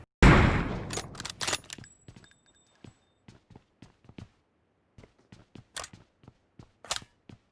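Gunfire in a shooter video game: one loud opening burst of several rapid shots, followed by a run of short, sharp clicks and cracks spaced irregularly across the rest of the clip, with no talk.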